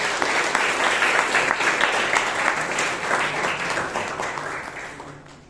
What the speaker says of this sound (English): please give Sheeb Kumar a big round of applause